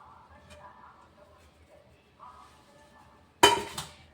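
Pot or pan clatters once, sharply and close, as fenugreek leaves are added while cooking a dish, preceded by quiet kitchen sounds and faint background noise.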